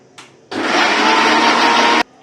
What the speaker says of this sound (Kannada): ಮಿಕ್ಸಿಗೆ ಹಾಕೊಂತಿದ್ದೀರಾ ಸ್ನೇಹಿತರೆ?